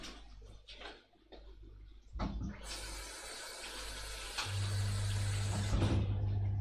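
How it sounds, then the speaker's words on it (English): Warm water poured into a pot of thick vegan or chicken chilli, a steady broadband pouring rush that builds up after a few seconds and continues loudly, up close, with no talking. "Water that down with some warm water and let it cook through for about 10 minutes."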